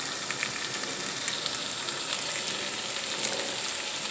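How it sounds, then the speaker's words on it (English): Zucchini and mushrooms sauté in a pan with a steady, close hiss of frying, continuous and even throughout with a couple of faint ticks. "in here now I'm cooking my zucchini and mushrooms"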